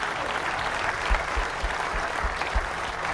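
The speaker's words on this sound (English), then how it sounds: "So if we could give them a huge round of applause." A crowd at a town hall meeting in Red Deer applauds volunteers, a steady dense wash of clapping throughout, moderately loud and unbroken.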